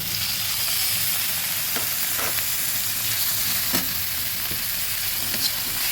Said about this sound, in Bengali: আদা রসুন পেঁয়াজ একসঙ্গে ভালোভাবে ভেজে নিচ্ছি